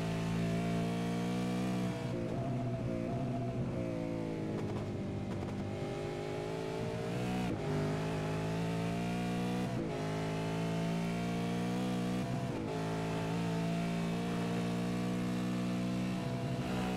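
V8 race cars at full throttle around Sebring circuit, a loud sustained roar of engines at high revs with shifting pitch and brief drops between gear changes as cars pass.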